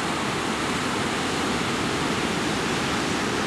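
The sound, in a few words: natural waterfall between two lakes, Devil's Cascade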